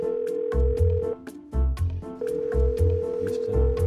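A telephone rings on an unanswered call at a polling institute, a repeated electronic ring tone sounding in regular bursts with short gaps, loud and close.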